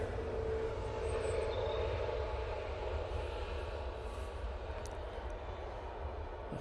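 A small KLM Embraer jet arriving from Amsterdam at Manchester Airport gives a distant, steady engine roar and rumble that holds evenly throughout with no talk over it.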